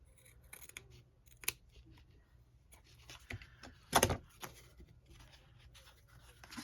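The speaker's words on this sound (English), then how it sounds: "Trim you at an angle. Trim this at an angle." Several crisp scissor snips cut through paper for a junk journal cover, scattered irregularly with one louder, closer cut partway through, amid light handling noise.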